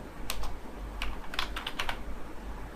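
Quick, irregular clicks of keys on a computer keyboard while a name is typed into a network firewall configuration screen, steady and close with no talking.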